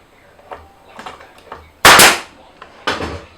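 Nail gun firing nails into a wooden beehive frame: two sharp, loud pneumatic bangs about a second apart, preceded by quieter handling knocks and clicks close to the microphone.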